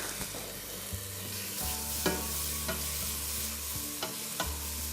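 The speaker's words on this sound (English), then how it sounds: "We just want to start to break down the onion and the garlic." Diced onion and garlic puree cooking gently in a paella pan, a soft steady sizzle broken by several sharp spoon taps and scrapes against the pan, close and quiet with no voices.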